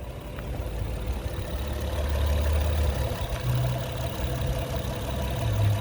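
A 2015 Honda Accord EX-L engine idling smoothly, a steady low rumble with a constant hum, heard close with no talking and only slight swells in level.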